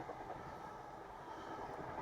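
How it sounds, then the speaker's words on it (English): A train passing nearby as a steady low rumble and rolling noise, faint and continuous throughout, with no talk over it. "Train."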